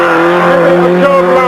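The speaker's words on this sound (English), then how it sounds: "Joe Butler, the Carrick and Suir man, in his Cadet. Approaching very fast, 22, handbrakes" A Vauxhall Cadet rally car in a forest stage rushing in fast for a handbrake turn, its engine loud and close with a sustained rasping tone and some tire noise, a commentator talking over it.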